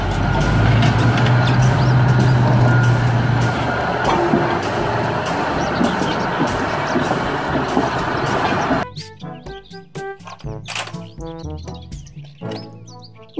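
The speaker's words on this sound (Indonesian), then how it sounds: "Mobil bulldozer." A loud, steady rumble of a heavy diesel machine engine fills most of the clip, then cuts off and gives way to short tonal chirps and beeps.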